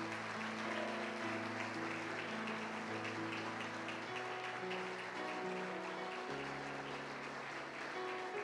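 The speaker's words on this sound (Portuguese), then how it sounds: "Vamos aplaudir o Senhor pelos pais." A church congregation at a Portuguese-language service applauds, a dense, sustained wash of clapping that runs throughout over held keyboard chords, with no voices standing out.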